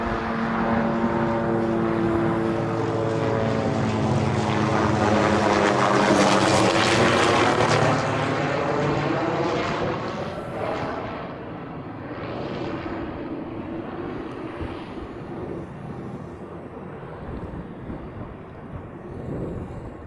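Boeing Dreamliner airliner passing during plane spotting in Hawaii, a loud jet roar swelling to a peak around the middle, then fading into a steady, softer rumble as it moves off.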